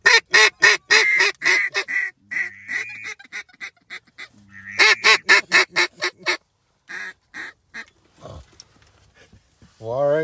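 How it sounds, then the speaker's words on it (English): Ducks or geese flying in over a duck-hunting blind, with a rapid run of loud honks and quacks coming in bursts, close and overlapping, and a low voice heard briefly among the calls. "I literally hit record and a flock of ducks come in"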